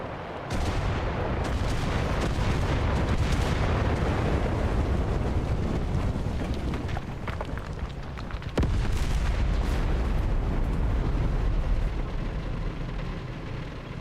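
Artillery fire in the video game Enlisted, a dense barrage of booming blasts and sharp bursts rolling almost without pause, loud and heavy, with one sudden crack near the middle and no talk.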